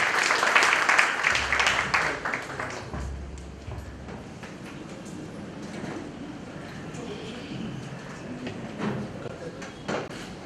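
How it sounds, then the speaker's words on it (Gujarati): An audience claps to welcome a speaker at a Gujarati theatre gathering, the applause strongest at the start and then thinning into a quieter murmuring hall with faint voices. "સ્નેહલભાઈ, આપણે તાળીઓથી સ્વાગત કરીએ."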